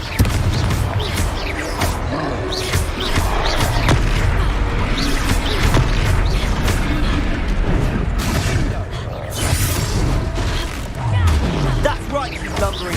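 Fiery spell blasts from the Confringo curse in Hogwarts Legacy burst through a dense, chaotic battle soundscape, with repeated booms and crashes layered over constant combat noise and shouted game dialogue.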